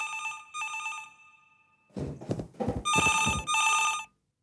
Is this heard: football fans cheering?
no